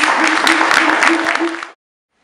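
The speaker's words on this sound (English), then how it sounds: "Can we have a little round of applause? Or a big one, Alston" An audience at a community conference claps, a loud, dense burst of applause with some voices mixed in that cuts off abruptly into silence after under two seconds.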